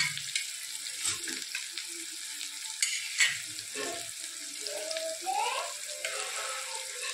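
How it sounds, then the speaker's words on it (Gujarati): Onions sautéing in a pan for butter pav bhaji, a continuous close sizzle and crackle of frying with occasional stirring scrapes and faint clinks. "ડુંગળીને સરસ થોડી શેકાવા દીધી"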